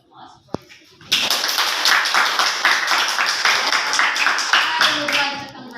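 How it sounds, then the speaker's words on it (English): After a high school English debate, an audience breaks into loud, close clapping that stays strong and dense for several seconds, preceded by a brief voice and a single sharp knock. "let's just give a big applause for this debate."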